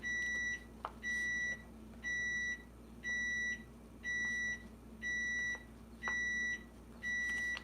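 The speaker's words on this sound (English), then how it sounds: "Sorry about the timer, you guys." A kitchen timer beeps in a steady repeating pattern, each bright electronic tone lasting about half a second with short gaps, clear and fairly close in a quiet room.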